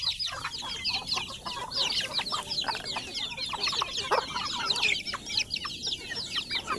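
A flock of chickens clucks continuously in a busy, overlapping chatter, with dense rapid calls at moderate distance and steady background noise.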